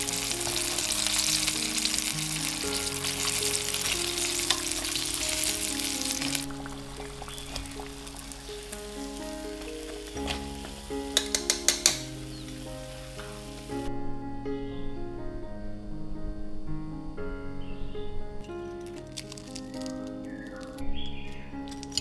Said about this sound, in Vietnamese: Sau khoảng 7 phút chiên thì cái phần cá của em nó đã vàng giòn như thế này rồi